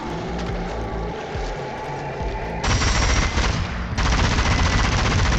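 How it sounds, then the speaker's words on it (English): Loud, relentless rapid gunfire from the video game Zombie Army 4: Dead War, a dense unbroken automatic burst that grows even harsher partway through, with no voices. "Damn, that rate of fire."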